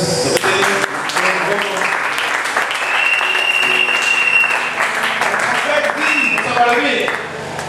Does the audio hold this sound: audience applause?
yes